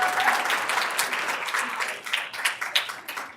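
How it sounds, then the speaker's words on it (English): A board meeting room fills with a short burst of applause for a recognized student, the clapping moderately near and fading out over a few seconds. "Give him a round of applause."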